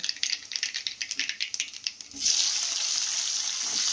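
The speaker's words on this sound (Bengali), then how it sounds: "এটা একটু লাল লাল করে ভেজে নেব" Onions with a nigella seed tempering go into a hot wok: quick rhythmic rattling and crackling, then a loud, steady sizzle as the chopped onion hits the oil, close up with no talk.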